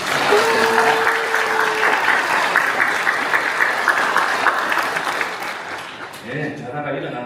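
A church congregation applauds after an infant baptism at a Korean Presbyterian church, steady sustained clapping throughout with a brief voice early on and talk emerging as it tapers off.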